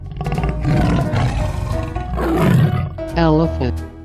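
A tiger roars in a 3D animal video game, a loud, drawn-out growling bellow that swells and fades over about four seconds, with game sounds mixed in.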